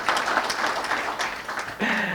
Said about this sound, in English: My team is clapping a lot that side